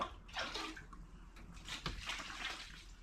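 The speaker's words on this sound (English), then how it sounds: "And we'll get some more water in there." Warm rinse water pouring into a Wonder Washer portable hand-crank washing machine, a steady splashing gush that stays close and fairly loud for about three seconds, with no talk over it.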